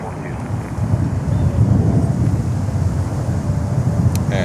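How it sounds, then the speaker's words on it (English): A Lufthansa airliner on approach to Miami airport, a steady low engine rumble heard from a distance over wind noise, with no talking in the clip. "And there is Lufthansa coming in."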